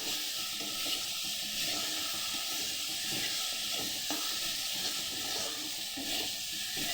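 Ground spice paste with salt and turmeric frying in oil, a steady loud hiss and sizzle throughout with faint stirring scrapes underneath.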